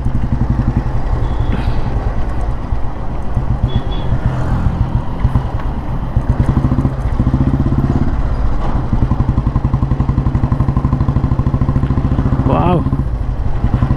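Vintage 1957 Royal Enfield Bullet G2 motorcycle running steadily with a loud, continuous thumping single-cylinder beat throughout, a rider's voice briefly exclaiming over the engine.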